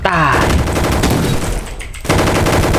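Automatic weapon fire in the Roblox game Gunfight Arena: loud, rapid bursts of machine-gun shots crowd the clip, briefly thinning before a dense volley resumes.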